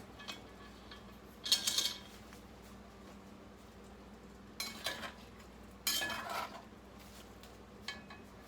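A jambalaya pot is shifted off a hot stove burner with three distinct metallic clanks and scrapes, separated by quiet kitchen stillness.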